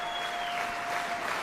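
Steady audience applause fills a hall at a lively birthday celebration, a dense continuous wash of many hands clapping at moderate loudness, with a faint sustained tone running beneath it.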